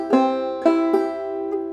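A clawhammer banjo plays a short measure of the fiddle tune June Apple, four bright, twangy notes in an uneven rhythm with ringing drone strings, close and alone.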